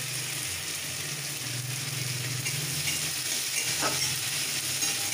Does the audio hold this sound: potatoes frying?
yes